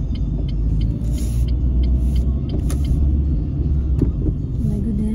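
A car driving in rush hour traffic, with a loud, continuous low engine and road rumble inside the cabin and faint higher hisses and clicks throughout.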